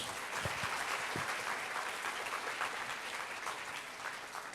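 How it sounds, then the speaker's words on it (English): A room full of people claps together in a sustained, even round of applause, fairly distant and steady throughout. "That's the answer that got the round of applause"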